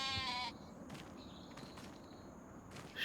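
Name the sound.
sheep bleating in a modded farming video game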